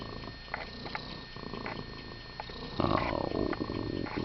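A 17-year-old cat with oral cancer purrs while being stroked, a soft, close rhythmic rumble that swells louder near the end, with faint rustling and no talking.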